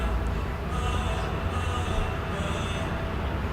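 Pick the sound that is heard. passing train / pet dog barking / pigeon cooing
passing train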